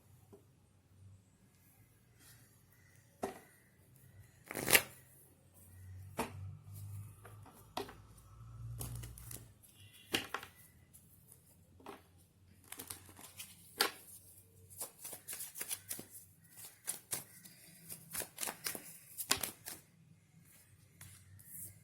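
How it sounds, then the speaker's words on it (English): Tarot cards being shuffled and drawn make faint, scattered taps, flicks and soft slaps, sparse at first and then more frequent, set against a quiet room. "let me pull the cards"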